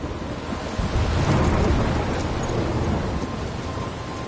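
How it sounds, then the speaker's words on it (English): A thunderstorm in a video game: a steady, loud wash of rain and wind with a deep rolling thunder rumble swelling near the middle, no talking. "I'm trapped in a storm?"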